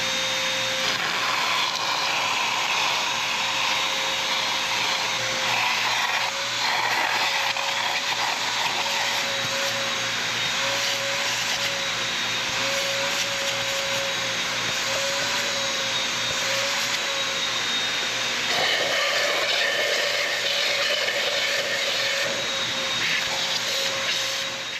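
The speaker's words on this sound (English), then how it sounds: "Let me get this oil sucked out of here" Vacuum drawing old oil out of a 1936 Allis-Chalmers WC tractor engine after decades in a barn, a steady whining suction drone with a sustained tone, held unbroken for the whole stretch.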